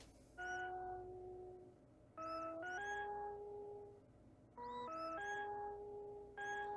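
Duck quacks pitch-shifted to different notes and played back as a tune, sounding in rhythmic bursts of stacked tones with gaps between. The lowest, deeply shifted quacks take on a sustained, organ-like quality.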